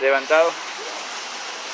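Water running through an underground Templar tunnel in Akko, a steady, close rushing trickle that continues alone after a brief voice at the start.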